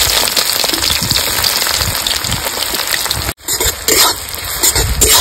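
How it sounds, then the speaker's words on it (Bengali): Chopped onion tipped into hot oil with cumin and whole garam masala for a village duck curry, giving a dense, loud, crackling sizzle throughout, briefly cut by a short gap before the spitting returns. "এবার আমি দিয়ে দেবো কুচিয়ে রাখা পেঁয়াজ।"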